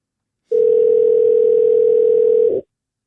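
A steady telephone dial tone sounds loud and alone for about two seconds while a call is placed, then cuts off abruptly.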